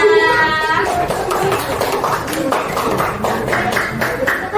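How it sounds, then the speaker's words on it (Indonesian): Classmates in a fifth-grade classroom clap for their peers, a scattered burst of hand claps with some taps following a brief voice at the start. "Kasih tepuk tangan buat teman-teman ya"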